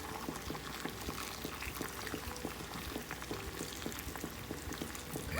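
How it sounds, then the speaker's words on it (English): Steady, vigorous bubbling of boiling water poured over wontons for ramen, a dense continuous hiss and gurgle close by with no talking. "some boiling hot water to that as well."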